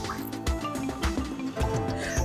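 Water is poured into a pan of prawn biryani masala, producing close, wet splashing and bubbling squelches with irregular drips and gurgles over a few seconds.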